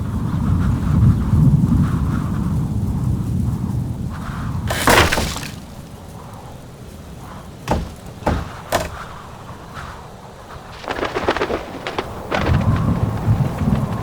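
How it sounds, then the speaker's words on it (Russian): A thunderstorm in an animated film: a low rolling rumble gives way to a loud crash of thunder, then sharp cracks and further rumbling, with a steady wash of rain-like noise between strikes. "Я и в самом деле очень боялся грозы."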